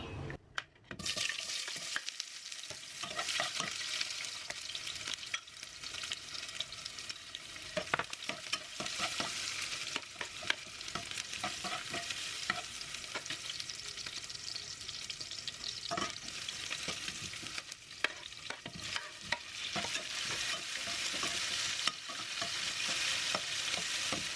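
Mung beans sizzle and fry in a pan while being stirred, a steady close crackle with frequent scraping strokes and no talking.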